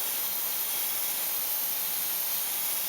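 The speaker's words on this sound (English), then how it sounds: "I'm spraying it kind of a fine tip setting right now" Paint airbrushed at a fine tip setting onto an AMT 1/1400 clear Enterprise-D model kit, a steady, even hiss held without a break throughout, close and alone.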